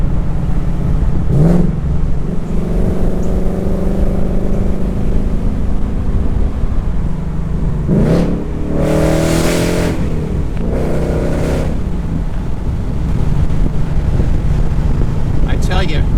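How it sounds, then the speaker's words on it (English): A 2019 Ford Mustang GT V8 drones steadily with active exhaust in normal mode, a low rumble rising and easing as it revs through gears, with wind noise and a voice talking at times. "Just for comparison, I just switched into normal mode on the exhaust."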